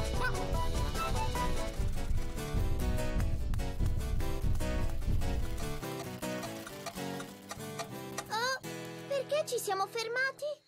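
A cartoon hen flaps and squawks in bursts of high, wavering cries near the end, following a busy stretch of loud orchestral chase music with thumping percussion.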